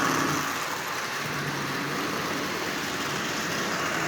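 A Marx toy train locomotive with a 1666 motor and modified 898 shell runs along its track, giving a steady, continuous motor whir and rolling hum at close range throughout, with no talk.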